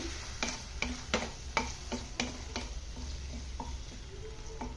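Chicken meat with salt being stirred in a frying pan for a cheese samosa filling, a steady low sizzle broken by repeated sharp scrapes and clacks of the spoon against the pan.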